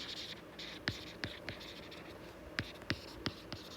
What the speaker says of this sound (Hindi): मैं यहाँ पे लिख दे रही हूँ एक चीज़